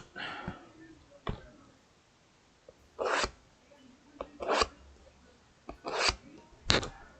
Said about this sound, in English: The scratches you hear is just me with the X-Acto knife on the backboard for the plastic here.